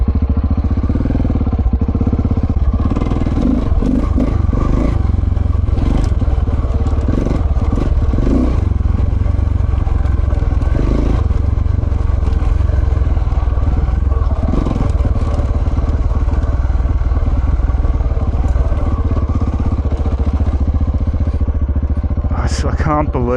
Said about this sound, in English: we'll get moving, get some bike and wind noise happening